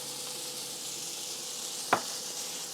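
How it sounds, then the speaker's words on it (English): A thin, lightly salted hamburger patty for a patty melt fries in a pan with a soft, steady sizzle, broken once by a brief scrape or clink midway through. "And we're just going to let that fry."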